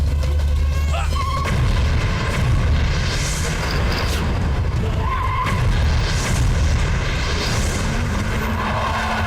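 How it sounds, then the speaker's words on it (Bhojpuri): A bomb blast in a Bhojpuri action film: deep, rumbling booms roll through a continuous dense roar that stays loud from start to finish, with dialogue and background sound mixed into the din. "बम से उड़ा के।"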